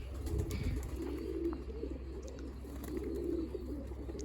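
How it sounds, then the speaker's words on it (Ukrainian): Pigeons in a loft with young squabs give soft, low cooing in two slow swelling phrases over a steady low hum, fairly close, with no talk. "є молоді голубенята. Голубнята молоді, чудові."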